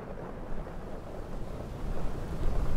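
Wind and rain sweep around a PMDG DC-6 airliner parked in Microsoft Flight Simulator, a dense, steady roaring wash of gusting noise that swells slightly louder toward the end.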